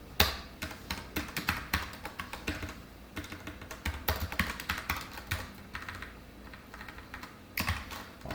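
Code being typed on a computer keyboard for a C programming lesson, a close, quiet, irregular run of key taps with occasional quick bursts and no voices.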